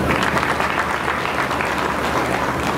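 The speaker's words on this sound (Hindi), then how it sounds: "पहले इतनी तालियाँ किसी ने बजाई" A large audience at a Blue World City event in Islamabad breaks into loud, dense clapping that holds steady for a few seconds.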